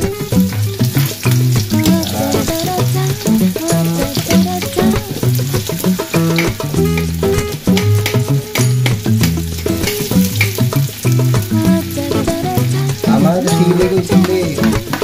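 Onions frying in a hot pan while mushrooms are being cooked, a loud, steady sizzle with stirring clatter that continues without a break, and no talk over it.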